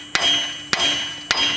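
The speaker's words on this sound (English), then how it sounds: "get a hammer and hit this really good. So we're going to go ahead and knock this loose" Three sharp metallic clangs at even intervals, each ringing briefly, as a small hammer strikes a Chevrolet TrailBlazer ball joint to knock it loose, close and loud with no talk.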